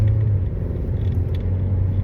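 A garbage truck rolling along the road in morning commute traffic, giving off a steady, close low rumble that stays even throughout with no pauses.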